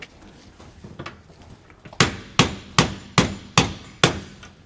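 A hammer strikes a steel leaf spring suspension hanger on a 2022 Jayco Eagle trailer. Six loud, evenly spaced ringing metallic blows land close by after a few quieter taps and some shuffling.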